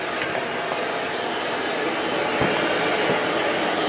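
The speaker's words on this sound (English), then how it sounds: "the suction on this is pretty good compared to a lot of other vacuum cleaners that I've seen out there" A Bissell Pet Hair Eraser Turbo Lift-Off vacuum cleaner running, a loud, steady, close whooshing motor drone with a faint high whine and no pauses.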